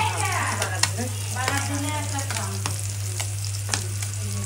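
Small puti fish fry in a hot pan with a steady, close sizzle, punctuated by sharp clicks and scrapes of stirring over a constant low hum.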